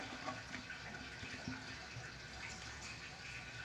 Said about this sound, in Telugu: చింతపండు పులుసు పోసేస్తున్నాను